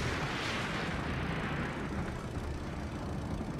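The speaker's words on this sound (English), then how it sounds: "This is the loudest ass explosion ever." Loud, sustained roaring blast from an explosion in the first-person shooter game RAGE, a dense rumbling wash that holds steady for several seconds with no talk over it.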